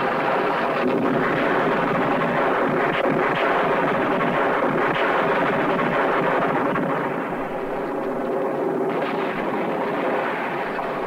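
An artillery shell fired at a bunker casemate in a war film, a loud, sustained rumbling roar that fades slightly partway through, with no talking.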